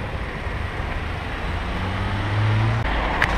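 Road traffic rolls past in a steady, broad roar, with a car's engine drone swelling louder toward the end as it passes close by.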